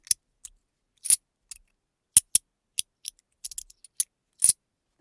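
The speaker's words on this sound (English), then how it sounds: "it's got a good sound. Just that metal on metal." Sharp metallic clicks and clanks, a dozen or so irregular taps and snaps of small metal parts meeting, close up with silence between.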